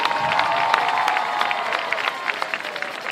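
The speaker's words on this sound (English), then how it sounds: "Let's have one more round of applause for our candidates for Mr. and Miss Liberty." A pageant audience applauds and cheers for Mr. and Miss Liberty candidates, steady dense clapping with scattered shouts filling the room throughout, fairly loud and continuous.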